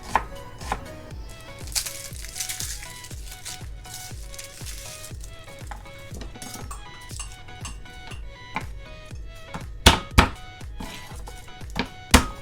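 Half an onion being diced with a knife on a cutting board, a rapid run of crisp, regular chopping taps with a few louder knocks near the end, close and without talk.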